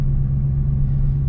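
Dodge Challenger Hellcat Redeye Super Stock holding steady on launch control, a close, loud, constant low engine drone with a strong hum and no change in pitch across the brief moment.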